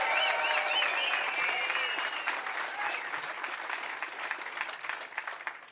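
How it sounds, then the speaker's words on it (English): Loud applause from a rally crowd cheering Philadelphia firefighters at an evening get-out-the-vote rally for a Pennsylvania Senate candidate, dense and steady with whoops and cheers over it, then thinning a little toward the end. "please give them another round of applause too"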